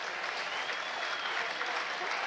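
A crowd at a county cricket championship match applauds a shot, steady clapping from many hands filling the air at a moderate distance for the whole stretch.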